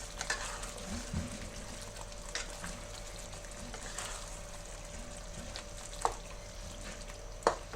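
Beef rendang being stirred in a pan makes faint, soft scraping and a low, quiet sizzle, with a couple of sharp clicks near the end and no talking.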